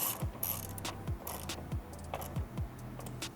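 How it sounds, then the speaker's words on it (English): A ratchet turns 10mm fasteners into the bumper of a fifth-generation Toyota 4Runner, producing close, repeated clicking bursts with short pauses between them. "now we're ready to put the 10mm fasteners back into the bumper"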